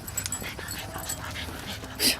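A low-to-the-ground dog along a walking route gives a few faint barks and whimpers, heard at a distance with light background noise and a sharper yip near the end.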